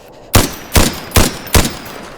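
Four heavy gunshots in the Roblox-style game Criminology, evenly spaced bursts about 0.4 seconds apart, loud and close with sharp attacks and short decaying tails, no talking.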